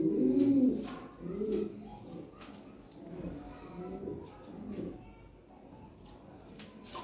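European Lahori Sirazi pigeons, original 2020-bloodline breeding pairs, coo in low repeated rounds, strongest at the start, with soft bird calls and some background voices in a loft.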